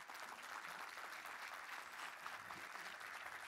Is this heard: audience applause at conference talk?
yes